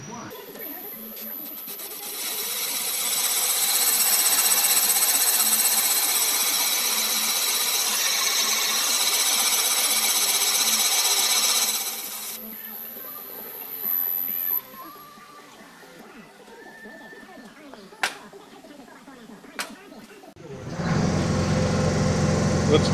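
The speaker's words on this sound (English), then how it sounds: "That's a counterbore cut." A counterbore cutter grinds a valve seat on a 1928 Essex engine during a rebuild. The cutting runs as a loud, steady, high-pitched whine for about ten seconds and then stops. Quieter workshop clicks and knocks follow, and a louder noise starts near the end.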